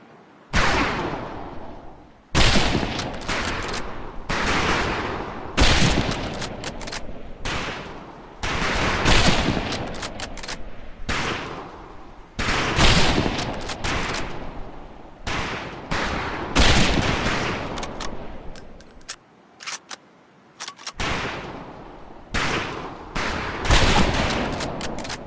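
Rifles crack in repeated volleys at a training range in Medal of Honor Pacific Assault, loud sharp shots fired in quick succession with brief gaps between groups across the whole stretch.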